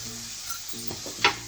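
Soaked chana dal dropped onto onions frying in a pan, a soft sizzle with a few quick stirring scrapes and a sharp utensil clink near the end, close and brief.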